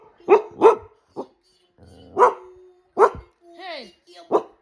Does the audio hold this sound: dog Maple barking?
yes